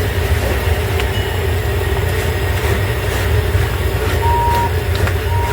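A trolley passes near a farmers market, rumbling steadily on rails with faint squeals and a couple of brief beeps throughout, moderately loud, with no talk.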